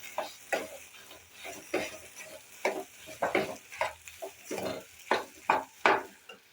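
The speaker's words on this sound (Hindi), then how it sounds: "ये ले लिया हमने भुने हुए जीरे का पाउडर, अच्छे से इसमें डाल के और मिक्स कर लेंगे इस तरह से।" Roasted cumin powder is mixed into fried potato masala for samosa filling in a pan, making rhythmic scraping strokes of a spoon against the pan, roughly two per second, close and moderately loud with no talking.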